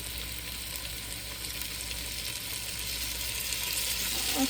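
Potatoes with garlic and onions are tossed in a hot pan, giving a steady, close frying sizzle with faint stirring scrapes and no talk.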